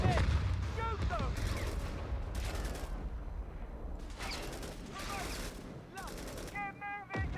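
Gunfire in Company of Heroes 3, loud overlapping bursts of rifle and machine-gun fire in repeated volleys with brief gaps, under faint in-game voices and battle noise.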